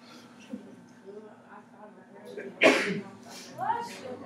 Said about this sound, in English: Everybody's sneezing.